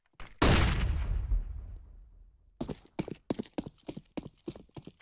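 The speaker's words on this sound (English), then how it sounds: "I'm throwing a flashbang." In a CS:GO match, a thrown flashbang bursts with a loud, sharp bang that rings and decays for about two seconds, followed by a quick series of rhythmic footstep-like thumps.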